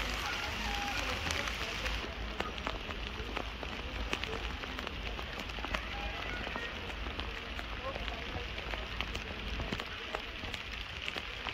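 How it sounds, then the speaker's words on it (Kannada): Heavy rain pours steadily at a landslide site in Wayanad, Kerala, a dense, continuous hiss of water striking surfaces that stays loud and unbroken throughout, with no one speaking. "ಮಳೆ ಸುರಿತಾ ಇರುವಂಥದ್ದನ್ನು ನಾವು ನೋಡ್ತಾ ಇದ್ದೀವಿ"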